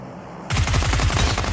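Rapid gunfire in a shooting video game bursts in after a half-second of quiet, a loud dense stream of shots in quick rhythmic succession.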